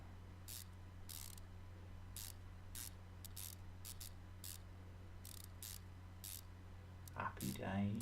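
A ratchet bolting up engine parts after a new crankshaft bearing is fitted in Car Mechanic Simulator 2015, with short bright clicking bursts repeating irregularly over a low steady hum, ending in a brief clatter.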